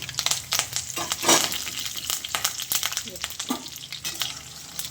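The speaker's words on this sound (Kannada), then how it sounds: "ಇಟ್ಕೊಂಡಿರೋಂಥ ಉದ್ದಿನ ಬೇಳೆ ಕಡಲೆಬೇಳೆ ಮೆಣಸಿನ್ಕಾಯಿ ಮತ್ತು ಕರಿಬೇವು ಎಲ್ಲ ಹಾಕೋತಾ ಇದ್ದೀನಿ" Urad dal, chana dal, broken Guntur chilies and curry leaves crackle and sizzle in hot oil for soya rice, a busy close spatter with sharp pops and stirring scrapes, no talking.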